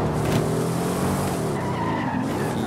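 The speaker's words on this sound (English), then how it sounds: "I would say it sounds more like a V8 engine than a V12." A car racing in the video game Forza Horizon 5, its engine roaring loud and continuous with screeching tire squeal and skidding layered on top throughout.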